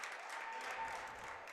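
Faint, steady applause from a crowd at a men's doubles racquetball semifinal, the 2016 Pan Am Championships, rewarding a soft touch shot; distant clapping wash with no voices.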